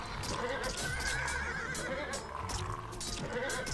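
A horse in the battle game Animal Revolt Battle Simulator neighs and whinnies amid clip-clop hoof sounds and a busy, continuous game soundscape, heard fairly faintly.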